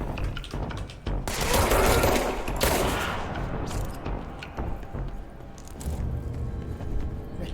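Gunfire in the action video game Control, bursts of rapid shooting with booming impacts that swell loud early on, then thin into scattered shots and clatter.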